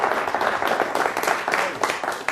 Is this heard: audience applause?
yes